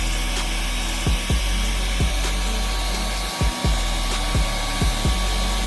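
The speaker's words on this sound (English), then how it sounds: "While you blow dry," A hair dryer blows steadily and loudly while curly hair is styled, with a broadband whoosh and repeated short thumps and bumps as the dryer is moved about.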